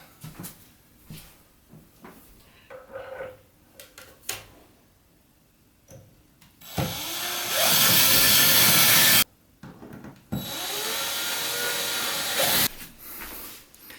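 A power driver sinks drywall screws into a wall while mounting an IKEA Varde shelf, two long loud whirring bursts separated by a brief pause, with softer clicks and handling noises before them.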